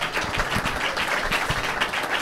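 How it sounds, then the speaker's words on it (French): Brief burst of audience applause at a public meeting on the 2023 elections, moderately loud scattered clapping from a room of people. "Il mérite des applaudissements."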